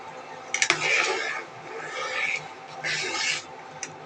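Metal pot lid lifted off a pot of simmering hilsa fish and taro lentil dal, with a close clatter followed by scraping rubs and a short final clink.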